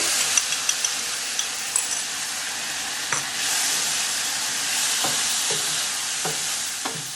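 Tofu stir-fried with chilies, peppercorns and sauce hisses in a hot pan, a steady broadband sizzle with scattered spoon-scraping clicks and a few sharper knocks, close and continuous, no voices.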